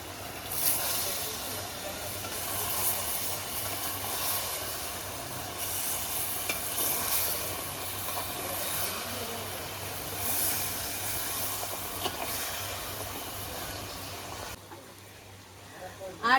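Kashmiri chilli powder and ground spices sizzle steadily in a hot pan, a continuous soft frying hiss with occasional stirring scrapes, moderately close, ending abruptly near the close.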